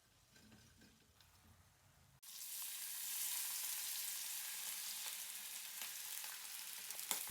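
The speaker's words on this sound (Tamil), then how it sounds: "இனிமேல் எல்லா சிப்பியும் பொரிச்சு எடுக்கணும்." Oysters dropped into hot oil in a pan break into a loud, steady sizzling frying hiss after a quiet start, continuing close and unbroken.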